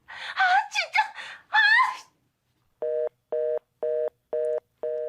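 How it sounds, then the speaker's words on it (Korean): After a woman's distressed gasps and cries, a telephone line goes dead and a disconnected-call tone beeps five times in an even, steady rhythm. "그렇게 끊겨버린 전화"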